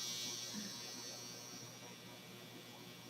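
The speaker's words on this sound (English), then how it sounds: "Oh, there goes the dryer." A household clothes dryer runs indoors, giving a steady, even hum with an airy hiss on top that holds unchanged throughout.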